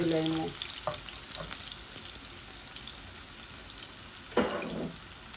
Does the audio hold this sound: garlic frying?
yes